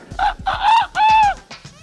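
A rooster crows up close in a loud, drawn-out series of harmonic calls, the last rising call trailing into softer clucks near the end, with no one talking.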